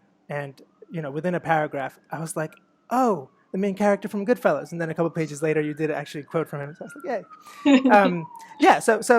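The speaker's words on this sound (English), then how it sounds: "excuse the siren" A siren wails faintly outside as it passes, a thin rising tone heard under a continuous two-person conversation.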